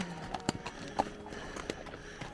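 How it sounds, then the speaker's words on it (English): Horses walking past on a coastal parkrun route, their hooves giving several irregular clip-clops close by over a faint outdoor background. "We've got more horses on our park run."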